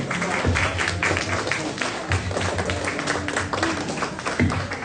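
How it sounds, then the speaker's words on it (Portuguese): A church congregation applauds steadily through the whole stretch, making a dense, continuous wash of clapping. Faint voices mix in underneath. "Pode aplaudir o Senhor também, em nome de Jesus."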